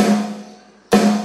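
Sharp side-stick snare strikes played from a keyboard's drum tones, two crisp hits separated by a short gap, each ringing with a steady mid tone, close and alone.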